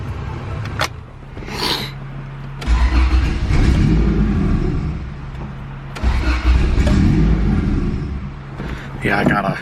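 Turbocharged non-VTEC Honda Civic EG hatchback engine cranking and catching, then running at a rough, low idle with surges, loud and close, with people talking over it.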